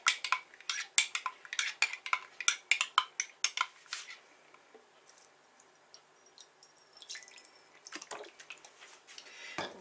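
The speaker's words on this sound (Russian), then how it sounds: "И вот это все хорошо размешаем." A metal spoon clinks rapidly against a jar while stirring a dressing of Dijon mustard and olive oil, dense rhythmic taps at first, then quieter scraping with a few sparse clinks.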